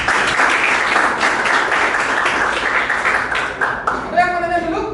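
Classroom audience applauding a student group during a teaching practice session, a full burst of clapping that thins out and gives way to a voice speaking near the end.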